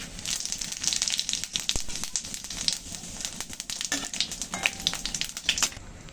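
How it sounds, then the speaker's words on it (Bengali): Dried red chillies and cumin seeds crackle and sizzle in hot oil in a kadai for tempering, a close, busy spattering with sharp pops throughout. "তেল তো গরম হয়ে গেছে, ফোড়নে দিয়ে দিচ্ছি শুকনো লঙ্কা, জিরা।"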